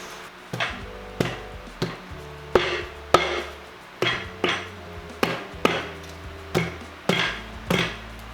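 About a dozen sharp hammer blows on metal during a Mazda MX-5 engine teardown, in a steady rhythm, each strike ringing briefly before the next.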